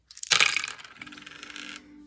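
Dice tumble onto a table during a tabletop wargame, a bright clattering burst of rattling hits that settles into lighter skittering before stopping, close and loud with no talk.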